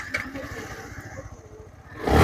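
A Version 3 Dark Knight Black motorcycle at a bike showroom near Kolkata fires up near the end, its engine jumping to a loud, close roar after a quieter stretch of low rumble.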